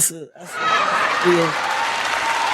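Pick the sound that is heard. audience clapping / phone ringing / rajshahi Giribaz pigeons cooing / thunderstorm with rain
audience clapping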